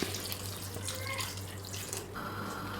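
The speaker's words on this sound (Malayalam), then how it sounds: "രണ്ട് കപ്പ് വെള്ളം ഒഴിച്ച് കൊടുക്കുക" Water poured into a cooking pot while making Kerala mango pulissery, a short steady splashing stream heard close up with no voices.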